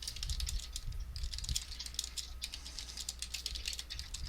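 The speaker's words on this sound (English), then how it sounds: "What are you typing?" Rapid, continuous typing on a computer keyboard during a tabletop role-playing session, steady clicky keystrokes close by with a low background hum and no speech.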